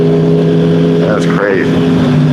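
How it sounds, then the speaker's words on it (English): A car with an amplified, loud muffler drones steadily at a constant rumble on the street, with someone talking over it. "You got an amplifier on your muffler, but your car don't get out of its own way."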